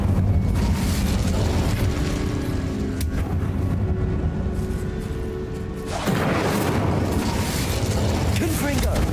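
An Incendio fire spell is cast in the video game Hogwarts Legacy, a loud roaring burst of flame and rumbling effects that runs continuously, with a short dip before surging again, while a voice talks over it.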